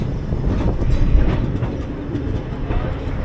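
A train running on rails near Verka junction in India, with a steady loud rumble and a faint rhythmic clatter of wheels throughout, heard close from on board or beside the line.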